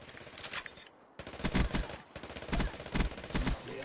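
A PPSh submachine gun in a video game firing in fast rattling bursts, three or so close, sharp strings of rapid shots separated by short gaps.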